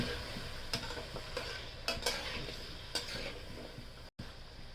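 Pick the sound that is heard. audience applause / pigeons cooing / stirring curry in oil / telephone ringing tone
stirring curry in oil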